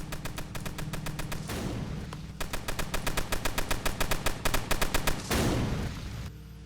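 Rapid bursts of gunfire from mounted gunners in the tower defense game Tower Battles, dense rhythmic volleys that pause briefly and resume, with a heavier blast near the end, loud and without talk.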